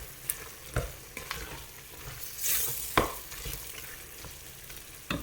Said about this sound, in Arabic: وكنخلط مزيان باش كتندمج لينا هاد العطريه